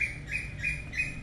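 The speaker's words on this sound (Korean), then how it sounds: "새소리가 아주 청아하게 들리는 오후고요." Birds chirp in a resort garden at a pool villa in Karon, Phuket, repeating bright tweets roughly every third of a second over a steady low background hum, with no one talking.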